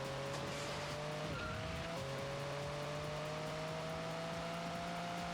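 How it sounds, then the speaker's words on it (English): A car in a video game speeds through water, ahead of hovercraft gliding above it, with a steady droning engine tone that shifts pitch briefly and then holds, playing alone at low level. "our car is just speeding through the water faster than the craft gliding above"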